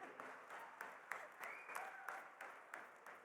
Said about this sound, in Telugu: వాళ్ళందరి కోసం మళ్ళీ ఒకసారి క్లాప్స్ కొట్టని.